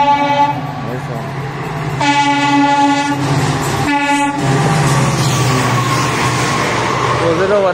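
Indian Railways WDP4D diesel locomotive 40198 hauling the Coimbatore–LTT express past at close range, with a loud rumbling pass-by and repeated long blasts of its multi-tone horn; a voice talks briefly.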